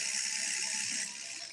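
A rug tufting gun running continuously, a steady, loud, rapid mechanical whirring and buzzing, much like a sewing machine, close by and easing slightly in level near the end, with no talking.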